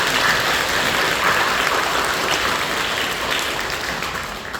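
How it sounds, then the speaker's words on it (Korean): Church congregation applauding during a worship service, a dense steady wash of clapping from a large crowd that holds loud throughout and eases slightly toward the end, with no voices over it. "사랑하며 격려하며 박수해 주시죠."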